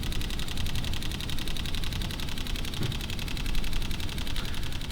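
Sony a6500 mirrorless camera firing a continuous burst at 11 frames per second, a rapid, even stream of crisp shutter clicks lasting about five seconds, close and fairly quiet, with no talk.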